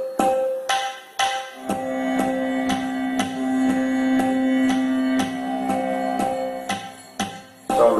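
Tanpura voice on a Yamaha PSR i455 keyboard: a steady, close drone that sustains throughout, with a quick plucked attack roughly every half second, alone without talk.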